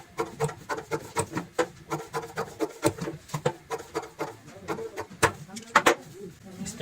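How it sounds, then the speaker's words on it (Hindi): Scissors snip away extra fabric from the seam margin of a homemade cushion cover, a close series of crisp, irregular cutting clicks and rustles. "एक्स्ट्रा कपड़े को काट देंगे।"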